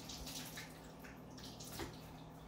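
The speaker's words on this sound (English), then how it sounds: "You wash your hands so you don't get salmonella. With soap." Hands are washed with soap under a steady stream of running tap water, faint and continuous with a light splash partway through.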